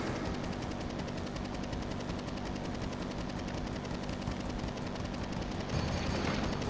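Explosion scene from the Final Fantasy VII video game: a dense, continuous roar of rapid gunfire-like crackling and booming, loud and sustained throughout, with a fresh surge near the end.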